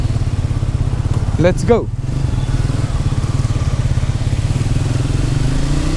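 A motorcycle engine hums steadily and close throughout a ride, with a rider's excited voice and a brief whoop rising over the engine early on.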